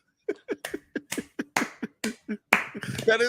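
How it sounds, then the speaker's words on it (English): Sharp hand claps ring out one after another in a steady, close series of about ten loud, dry smacks, with a rougher burst of claps near the end. "That is definitely a clap."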